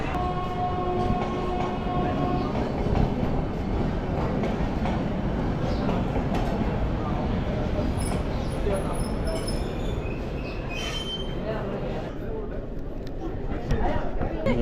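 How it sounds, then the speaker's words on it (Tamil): The Ooty to Coonoor mountain toy train rumbles steadily through a busy station, with a broad continuous rail noise heard up close beneath constant chatter and people talking throughout. "உள்ளார போய் ட்ரெயினில் ஏறி குன்னூர் போக போகிறேன்"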